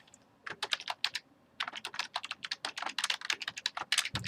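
Fast typing on a computer keyboard in Google Docs, with dense, close key clicks in quick irregular bursts after a brief pause near the start.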